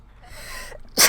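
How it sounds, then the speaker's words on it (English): A single sharp sneeze from a person playing a zoo-building game, preceded by a short inhaling build-up and ending in a loud, bright burst, close to the microphone. "I didn't mean to sneeze on you guys"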